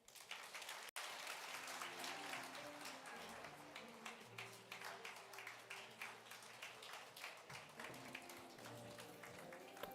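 Audience applause for a minister at a policing summit, steady dense clapping from a large crowd lasting the whole stretch, with no speech over it.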